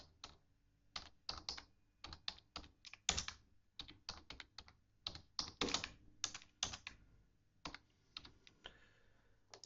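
Quick, light keystrokes clatter on a computer keyboard in irregular bursts with short pauses, close and fairly quiet, with no talking over them.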